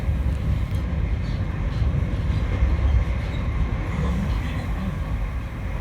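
Constant low rumble of a moving train heard from inside the carriage, with steady rolling noise and occasional faint clatter.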